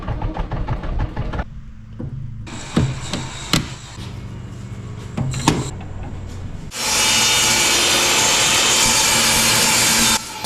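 Woodworking on the largest board for a ping pong paddle holder's back panel: rhythmic rubbing and scraping strokes as the edges are cleaned up, a few sharp knocks, then a loud, steady power-tool whine as a chamfer is cut.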